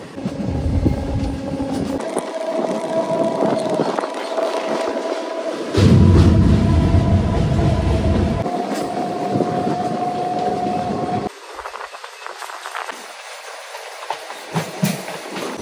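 A local DEMU diesel train rumbles through forest in the Dooars between Lataguri and Siliguri, its engine and wheels droning loudly with clattering over the rails and a sustained tonal hum.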